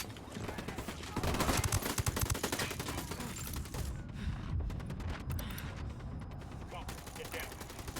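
Sustained gunfire in a Ghost Recon Wildlands firefight, a dense run of rapid automatic bursts that thins out toward the end over a dense combat din.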